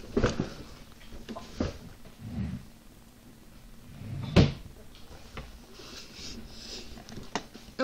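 A wooden drawer being shut hard with headphones caught inside, giving several loud knocking thuds spread across the stretch, the sharpest one midway, over faint background noise.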